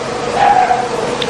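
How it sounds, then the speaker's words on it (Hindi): A dog gives a brief, somewhat muffled bark or yelp at a moderate distance against a steady background hum. "कुत्ते भी भौंक रहे हैं"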